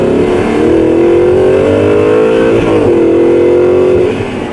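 A loud Audi R8 supercar engine revs hard and climbs in pitch, shifts briefly, then pulls up again before easing off at the end.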